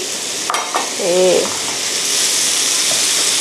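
Kimchi is tipped into a hot frying pan with cooking shrimp and squid for seafood kimchi pasta, giving a loud, steady sizzle with a few brief clinks and a short tonal sound partway through.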